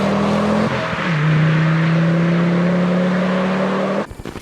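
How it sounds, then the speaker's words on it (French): A Ford five-cylinder engine revs loud and close with a steady droning note that dips briefly, then holds high before cutting off into rougher, lower rumble at the end; no one speaks. "Et le bruit du 5 cylindres est génial."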